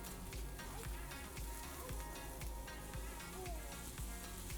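Steady, loud sizzling from garlic, onions, scallions and pimento peppers frying in a hot pan, a continuous crackle with faint stirring sounds.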